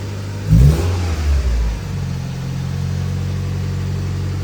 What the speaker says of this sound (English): Fuel pump cycled, and there we go. Blown head gasket and all.